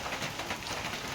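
Rain falls steadily outdoors as a soft, uniform hiss of drops on surfaces, faint and continuous with no other sounds standing out.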